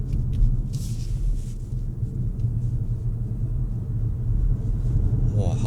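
Low, steady road and drivetrain rumble fills the cabin of an Xpeng G6 electric SUV accelerating on Malaysian roads, with faint voices in the background.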